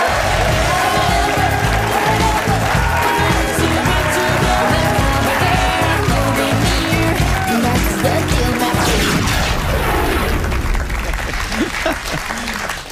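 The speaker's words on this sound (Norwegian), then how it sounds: "Ja, folkens, gi en stor og varm applaus." A television studio audience bursts into loud, sustained applause mixed with cheering for a show guest, a dense roar of clapping that fills the whole stretch and thins slightly near the end.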